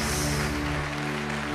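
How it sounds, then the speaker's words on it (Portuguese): Congregation clapping during an evening church service, steady continuous applause filling the room alongside sustained musical tones, with no clear break or pause. "Aplauda o nome do Senhor."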